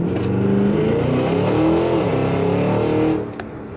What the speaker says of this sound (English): The cracks and burbles and pops on decel are ridiculous